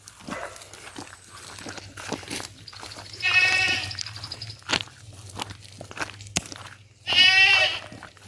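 Goats on a farm in Saint Elizabeth, Jamaica, bleating loudly twice, several seconds apart, with scattered footsteps and clatter in between over a low steady hum.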